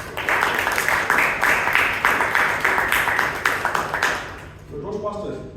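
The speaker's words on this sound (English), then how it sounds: "Big round of applause to once again." Audience applause at a Bangalore Toastmasters club meeting: steady, dense clapping from a roomful of people for about four seconds, fading out as a voice begins speaking at the end.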